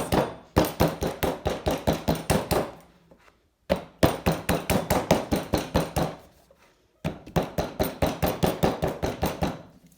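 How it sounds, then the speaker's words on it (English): A clay slab pounded down onto a work surface to flatten it, three quick bursts of close, sharp thuds in rapid rhythm, each run about three seconds long, separated by short pauses. "you're going to pound it on your surface"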